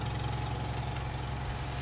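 A hydrodermabrasion skin care machine for facial treatment starts up with a steady, even mechanical hum and hiss, continuous and close, with no voices.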